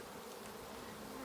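Honeybees buzzing around a hive, a dense, steady hum from many insects close by, with no talk over it.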